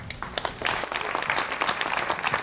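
Audience applause at a local chamber of commerce business showcase, a burst of many hands clapping at moderate volume, continuous and fairly close.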